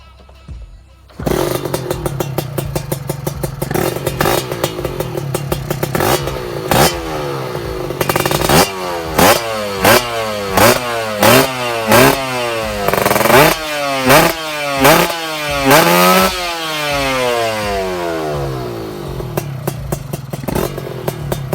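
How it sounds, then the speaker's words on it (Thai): A motorcycle engine fires up after a second of quiet, then idles roughly and is revved repeatedly in rising and falling bursts, loud and close, with no talk over it. "เดี๋ยวเรามาติดเครื่องให้ชมกันเลยครับ"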